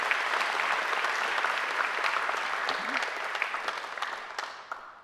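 Sustained applause from a graduation ceremony crowd, many hands clapping at once, gradually thinning into scattered claps near the end.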